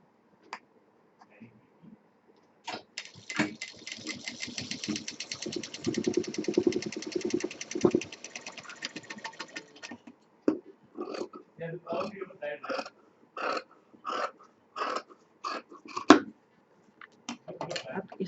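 A sewing machine runs for several seconds as it stitches four fabric layers of a potli bag, giving a rapid, even mechanical rattle up close. Afterwards someone speaks in short bursts.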